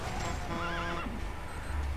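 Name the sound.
D-Horse neighing in Metal Gear Solid 5 video game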